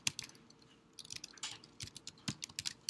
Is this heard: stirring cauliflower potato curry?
no